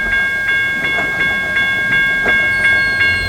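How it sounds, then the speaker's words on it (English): A train rolls past on the B&O railroad, wheels hitting rail joints in a steady, repeating clickety-clack at close range, with a constant steady tone over the rumble. "We got a train coming right now."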